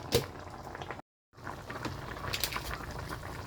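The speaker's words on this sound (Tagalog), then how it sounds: "Papakuluan ko siya ng konti bago ko ilagay yung sinigang na powder" Sinigang broth bubbling in a pot on the stove, a steady close simmering wash with a brief drop-out near the start, heard alone without talk.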